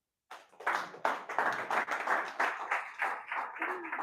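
Steady applause from a class audience, many hands clapping together continuously at close range.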